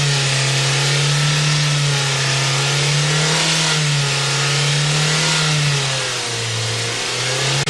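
Toyota car engine running steadily in fuel-injection backup mode after the vacuum sensor is disconnected, a loud, continuous mid-pitched hum with slight rises and dips in speed, close up and with no talking.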